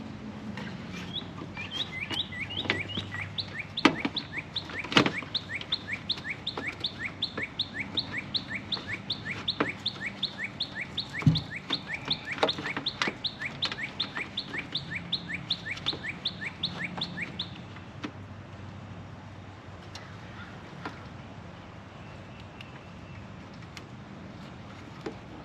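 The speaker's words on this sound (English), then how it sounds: "Bird is giving it hell." A bird outdoors repeats a rapid, insistent chirping call in long bursts while someone replaces condenser fan motors on an outdoor unit nearby, with faint clicks and handling noises around it.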